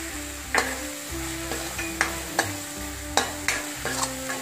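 Onions sautéing with chilli powder and turmeric in a pan for channa masala, a steady sizzle broken by about six sharp scraping stirs of a spoon, close and fairly loud with no talk.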